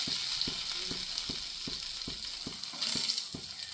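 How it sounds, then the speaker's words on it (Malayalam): Bread slices frying in a pan for toast, a soft steady sizzle punctuated by regular light taps and scrapes of a utensil against the pan, fairly quiet and close. "സോ നമുക്ക് കുറച്ചൊന്ന് ഫ്രൈ ചെയ്യാം"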